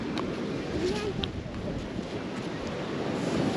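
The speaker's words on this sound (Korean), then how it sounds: "파도가 엄청 세." Strong sea waves at a Da Nang beach resort make a steady, loud broadband roar of surf and wind that fills the whole stretch, with voices faintly mixed in.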